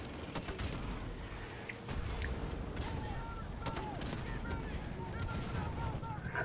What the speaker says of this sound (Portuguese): A gente dá alguns tiros aí de lança-granadeira.